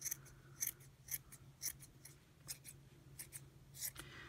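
Small scissors trim a yarn pompom with a series of crisp, quiet snips at an irregular rhythm, close by, over a faint background hum.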